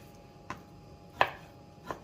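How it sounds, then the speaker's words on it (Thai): Three sharp knife chops strike a cutting board while pork is cut up, spaced evenly about two-thirds of a second apart, the middle one loudest, in a quiet room with no talk. "หั่นหมูกันจะยังไง"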